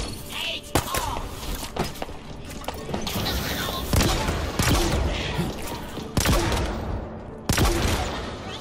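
Gunfire and heavy impacts in the Halo Infinite campaign: repeated sharp shots, thuds and crashes in irregular bursts over a loud, dense battle backdrop, with a voice talking at times.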